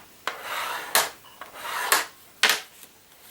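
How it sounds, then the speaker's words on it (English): Score tool drawn firmly along folded card paper, making several short rasping strokes in a steady rhythm with brief pauses between them, close and fairly quiet, with no talking. "Use your score tool and score it."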